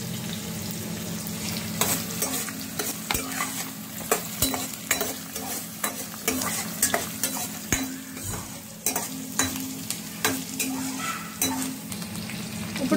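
Green chillies crackling in hot oil while a spoon stirs them, with a continuous sizzle, a low steady hum from the stove, and sharp clinks and scrapes recurring every second or so.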